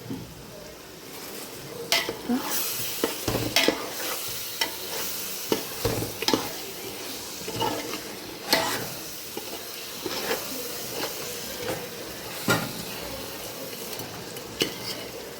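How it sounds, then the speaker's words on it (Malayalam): Tuna fried for a fish biryani sizzles steadily in the pan while a spoon stirs it, with repeated scrapes and knocks against the pot at irregular intervals. "ഇനി മീനിട്ട് കൊടുക്കാം ചൂരമീൻ വറുത്താണ് കേട്ടോ"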